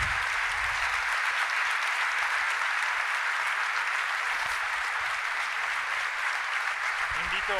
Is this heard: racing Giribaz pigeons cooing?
no